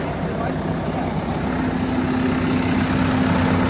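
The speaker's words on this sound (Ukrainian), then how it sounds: "завели цей тракторець" A steady, low two-cylinder Deutz-Fahr tractor engine idles continuously with a faint constant hum, even and unbroken throughout.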